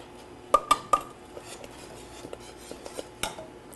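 A spoon stirs cheese into a pot in a home kitchen, giving three sharp metallic clinks close together early on, then lighter scraping taps against the pot, with no voices.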